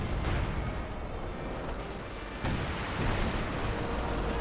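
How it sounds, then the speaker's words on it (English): Long-range artillery barrage in Company of Heroes 2 pounding a position: dense, rumbling blasts overlapping into a continuous loud roar, with a fresh heavy impact midway. "it's probably maximum range barrage hitting the tier 2"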